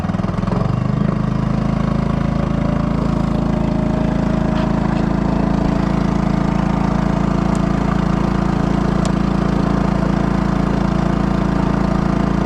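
A Honda 2.3 HP gas outboard motor runs steadily at about quarter throttle on a small Flycraft boat, giving a constant, loud, even drone with no talking.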